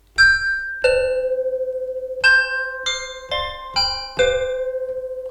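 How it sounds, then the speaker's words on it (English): Resonant modular synth chords, random chords in D Dorian, ring out in about seven bell-like strikes at uneven intervals, each chiming tone sustaining and overlapping the next. "we're using a random chord in the D Dorian scale"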